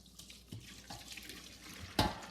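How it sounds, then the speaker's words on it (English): Whey is poured through cheesecloth while making homemade mozzarella, giving quiet liquid splashes and trickles with a sharper splash near the end, close and without talk. "So I'm gonna pour the rest of it through the cheesecloth."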